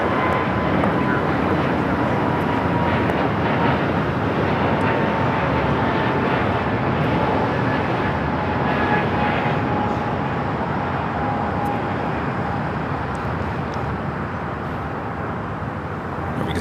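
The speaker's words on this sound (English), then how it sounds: "Next takeoff is Frontier. LRA, the Elk livery heading to Houston, Texas. It's an A320neo." A Frontier Airbus A320neo in Elk livery takes off from Los Angeles LAX, its engines a steady, loud broadband roar that holds across the whole stretch, with a faint whine and some voice underneath.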